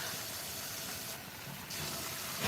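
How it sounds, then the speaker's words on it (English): Chicken frying in a pan gives a steady, broad hiss of sizzling oil throughout, fairly faint and heard alone with no talk. "It's frying over here. It's still frying."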